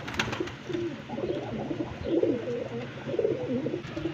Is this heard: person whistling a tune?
no